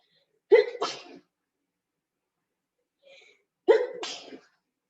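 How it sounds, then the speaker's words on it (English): A person sneezes twice, each a sharp close burst with a breathy tail, separated by a few seconds of silence and a faint intake of breath before the second. "You're sneezing."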